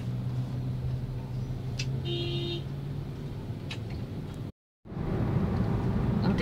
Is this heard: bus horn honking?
yes